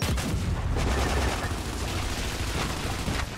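Dense, continuous gunfire rattles through a firefight in Gears 5 during insane co-op play, loud and sustained automatic bursts layered with booms and no pauses.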